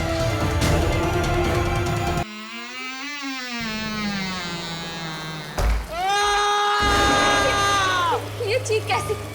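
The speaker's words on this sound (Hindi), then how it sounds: "ये चीख कैसे?" In a horror TV drama, a wavering high-pitched cry rises and falls, then a second sustained shrill scream follows, with dialogue and room noise around them.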